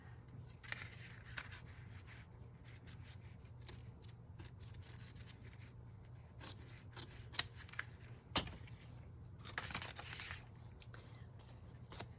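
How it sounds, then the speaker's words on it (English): Scissors snipping paper for a Christmas craft with Santa ephemera, quiet scattered cuts and rustling close by over a low steady hum, with a few sharper snips standing out. "So maybe cut this one right about here."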